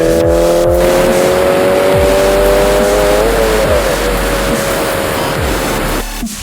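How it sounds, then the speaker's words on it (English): A turbocharged Subaru BRZ pulling hard through the gears, its engine droning loud and close as the pitch climbs steadily toward redline, dipping at a shift before rising again, with road and wind roar underneath. "The turbo spools pretty quickly, and power just keeps building and building until it hits redline."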